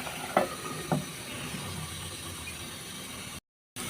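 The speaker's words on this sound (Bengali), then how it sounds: "এখন আমি একটু নেড়ে চেড়ে ঢাকনাটা লাগাইয়ে 20 মিনিটের মতো রান্না করে নেব।" Bheda fish bhuna curry sizzles steadily in a pan while a spoon scrapes through it twice with short clanks, followed by a brief hush as the lid goes on.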